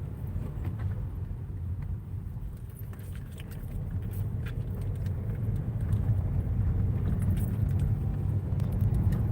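A car on the road, heard from inside as a steady low rumble of engine and road noise that builds slightly over time, with faint rattles and small clicks on top.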